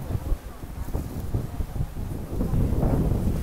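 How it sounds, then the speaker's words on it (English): Strong wind buffets the microphone in steady gusts at an oceanfront seaside resort, a continuous low rumble with no one speaking. "It's a very windy day."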